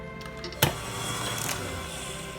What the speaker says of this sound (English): we're going to whisk it for a further couple of minutes